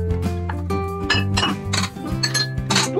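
Dry ingredients for gluten-free lemon poppy seed muffins tumble into a mixer bowl, giving a series of close, bright clinks and rattles against the bowl at irregular intervals, with no talking.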